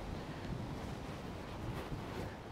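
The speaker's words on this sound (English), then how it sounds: "This wind, I don't know if you'll hear that on the microphone." Wind buffets an outdoor microphone beside a river at a Taipei drinking-water museum on a rainy, blustery day, giving a steady low rumbling roar with no one speaking.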